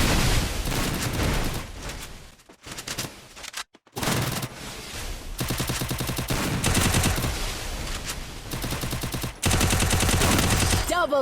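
Gunfire rattles through a match of the mobile shooter Free Fire, loud bursts and rapid volleys with brief gaps, mixed with game sounds and faint background voice.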